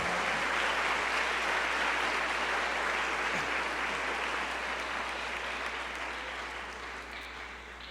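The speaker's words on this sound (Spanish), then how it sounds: "Vamos a darle un aplauso al Señor." A church congregation claps together in praise, a broad, sustained wash of applause filling the room at a fairly quiet level and tapering slightly toward the end.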